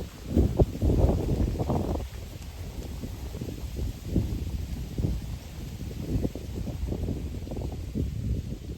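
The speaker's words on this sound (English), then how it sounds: "it's really windy" Strong wind buffets the microphone in heavy rumbling gusts, with rustling and flapping noise rising and falling throughout.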